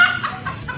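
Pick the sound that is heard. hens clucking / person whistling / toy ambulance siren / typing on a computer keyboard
hens clucking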